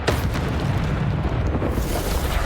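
A Bombarda explosion spell from the video game Hogwarts Legacy goes off as a loud, close boom. A rumbling roar continues for a couple of seconds, with no talking.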